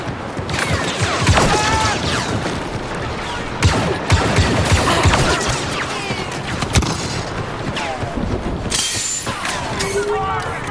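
Blaster fire rattles through a Star Wars Battlefront 2 battle, dense overlapping bursts and booms filling the whole stretch at close range, with effects and voices mixed in throughout.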